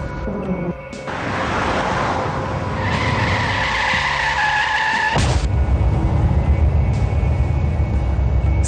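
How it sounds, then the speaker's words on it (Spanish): A car speeds through an intersection as the traffic light turns red, its engine roaring and tires skidding and squealing loudly on the road in a long, close screech. "un auto que se aproximaba siguió avanzando estando ya el semáforo en rojo"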